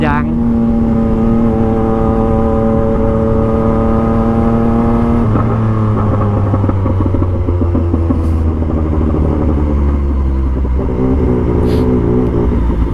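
A Yamaha MT-09 motorcycle is being ridden out with a friend. Its engine hums in a steady, loud, near drone, and the pitch drops and shifts partway through as the bike changes speed.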